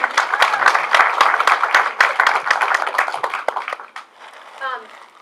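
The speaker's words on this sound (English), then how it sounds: "Everybody, give her a nice applause" Audience at a film Q&A session clapping for a cast member, brisk distinct claps that thin out and fade near the end, followed by a brief voice.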